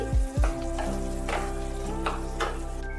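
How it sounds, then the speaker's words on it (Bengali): Bottle gourd and rohu fish head curry stirred in a pan, giving a steady close sizzle with a couple of heavy scraping thumps early on and lighter spoon scrapes recurring afterward. "মিনিট তিনেক বাদে আবার ফিরে এলাম এসে ঢাকা খুলে আবার একটু নাড়াচাড়া করে দিচ্ছি"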